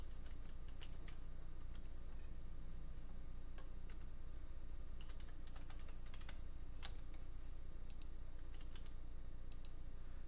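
Keystrokes on a computer keyboard while entering email account details, with irregular bursts of taps, near and fairly quiet, over a steady low background hum.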